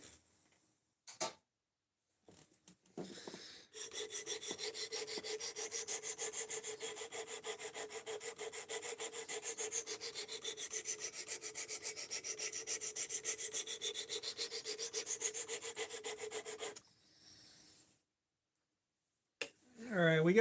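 A knife blade has its bevel ground, a steady continuous rasping abrasion that runs unbroken for about thirteen seconds between brief pauses, close and fairly loud with no talk over it.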